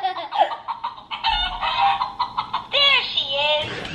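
A Paw Patrol Zoomer Marshall toy plays recorded chicken clucks and squawks, loud and close, in a series of short bursts with a few high, warbling calls.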